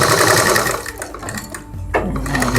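A sewing machine stitches a fabric flower latkan in one short, loud, close run of fast whirring that briefly slows and then picks up again.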